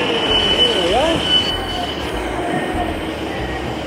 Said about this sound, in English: we are now arriving into Cardiff Central Station